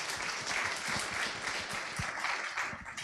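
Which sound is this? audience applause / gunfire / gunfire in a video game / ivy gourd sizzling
audience applause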